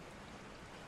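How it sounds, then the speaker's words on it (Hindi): Steady rain heard from inside a room at night, a soft continuous hiss of falling water, faint and even, with no voices. "बारिश की आवाज कमरे"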